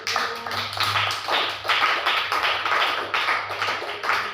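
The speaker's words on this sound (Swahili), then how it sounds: "Pigia Yesu Kristo makofi" Church congregation clapping hands in praise of Jesus Christ, a steady run of rhythmic claps filling the room at an even beat under a low hum, with no talk.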